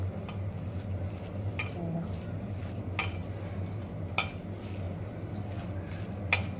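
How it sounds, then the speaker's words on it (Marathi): Kolim shrimp being mixed into a batter by hand in a bowl, giving soft continuous wet stirring with a few sharp clinks of a utensil against the dish over a low steady background hum. "आता आपण मस्त मिक्स करून घेऊया छान"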